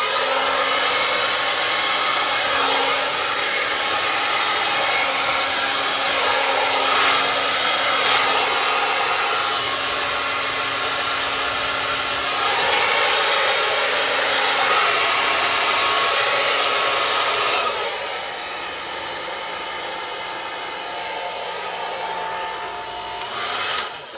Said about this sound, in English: I've got my blow dryer